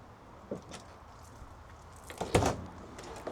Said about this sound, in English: Let me open the back doors.